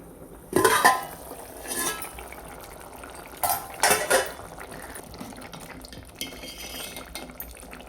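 A few sharp metallic clanks and scrapes of kitchenware, like a plate set over a pan, separated by short quiet gaps.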